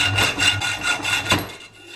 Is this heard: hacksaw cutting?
yes